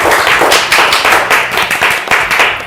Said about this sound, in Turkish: Alkışın yükünü Dilara Hanım taşıyor